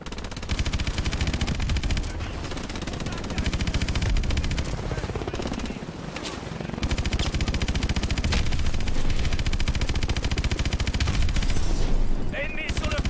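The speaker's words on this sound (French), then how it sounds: "Feu à volonté sur les bateaux." Rapid automatic gunfire in Call of Duty Advanced Warfare is aimed at approaching enemy boats, a dense, continuous loud rattle of shots that barely pauses, with game voices speaking in French underneath.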